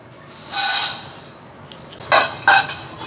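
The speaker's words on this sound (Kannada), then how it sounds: "ಮೊದಲನೇದಾಗಿ ಧನಿಯಾ ಹುರ್ಕೊತೀನಿ" Coriander seeds being dry roasted in a pan, heard as a loud metallic scrape of the pan near the start and two more short scraping bursts near the end, with no talk.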